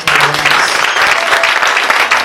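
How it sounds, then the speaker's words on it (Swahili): An audience in a Sunday church service claps hard, a dense, loud, continuous burst of applause for a couple of seconds. "Piga makofi mazito"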